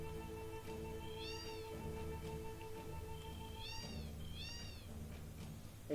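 Several cats meow in repeated rising-and-falling calls over a steady tonal background, a few distinct meows spaced across the stretch, moderately near and fairly quiet.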